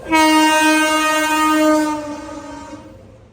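A Jan Shatabdi Express train arriving at Belda station sounds one long, loud horn blast that holds steady for about two seconds and then fades, over a low rumble of the moving train.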